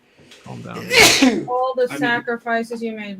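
One sharp, close sneeze bursts out amid casual conversation, with people talking right after it.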